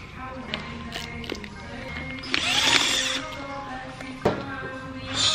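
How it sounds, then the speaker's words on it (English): Power tool unbolting the air suspension compressor mounts on an R34 Skyline, with a loud whirring, ratcheting burst in the middle and sharp mechanical clicks and knocks before and after, close by. "You just unbolt these and you flip them."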